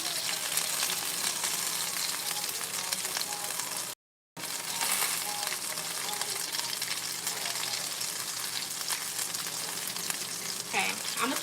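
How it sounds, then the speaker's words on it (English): Green beans frying and being stirred in a pan, giving a steady, close, loud sizzle with light scraping from the stirring and a short break partway through. "First, let me stir around my green beans really quickly."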